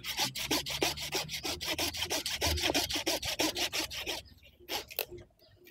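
A bonsai anting putri stump being cut with a saw, steady rhythmic back-and-forth rasping strokes close up and fairly loud for about four seconds, then a few scattered scrapes as the cutting stops.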